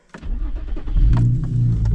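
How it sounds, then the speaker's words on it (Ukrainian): An Infiniti FX35 crossover starting up: a quick starter crank followed by the engine catching and settling into a low, steady idle, close by with no talking. "Знову запускаємо автомобіль, заганяємо в гараж"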